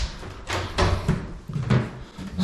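Someone tries a locked door in a building stripped for fit-out. Several dull knocks and rattling thuds come from the door and frame, close by, in uneven bursts with no talking.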